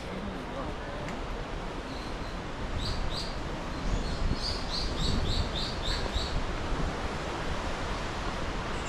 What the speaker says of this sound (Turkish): Etrafta kuş sesleri.